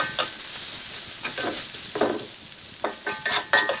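Salted preserved greens stir-fried in a wok with minced garlic, scallion, chili powder and oyster sauce: a steady sizzle broken by a few scraping, clinking spatula strokes, close and fairly loud, with no talking.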